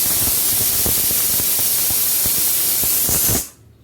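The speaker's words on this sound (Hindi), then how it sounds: "मेरा कुकर सीटियाँ मार रहा है" A pressure cooker whistles on a kitchen stove while cooking chole, releasing a loud continuous steam hiss with faint rattling that stops sharply near the end, leaving near silence.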